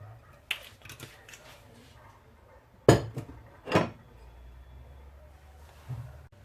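A frying pan being handled on a home stove while olive oil goes in, giving a few sharp metallic clanks and clinks near the mic, the loudest two close together, with faint scraping between.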